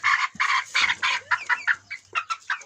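A young rooster chick clucks in a quick run of short, rhythmic bursts, close and fairly loud, with no talking.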